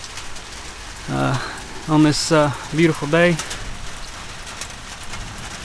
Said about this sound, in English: So just out here under the shed in the rain